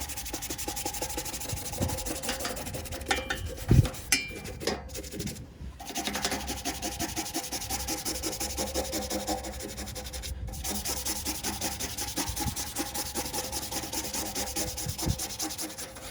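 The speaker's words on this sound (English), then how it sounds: "So I'm gonna scrub in that area just in case if there was any like faint lines" Scrubbing around the bolts of a Dish Network 1000+ satellite dish: steady, continuous rubbing and scraping goes on close up for about sixteen seconds, with only brief pauses.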